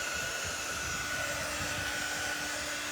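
A hair dryer used on a heat transfer blows a steady, loud, close whoosh with a constant motor whine, running unbroken throughout.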